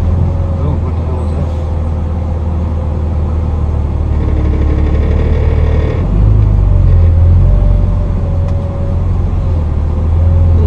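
A truck's engine rumbles loud and close under its exhaust brake, with a heavy low drone that swells and surges partway through; a voice is heard briefly over it.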